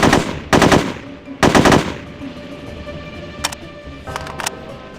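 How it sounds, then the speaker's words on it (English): Guards firing automatic weapons in the spy shooter game No One Lives Forever 2, two loud bursts of rapid gunfire up front, then a few shorter, quieter volleys over a faint background hum. "Guards are going to spawn in and, well, try to shoot you, as they often do."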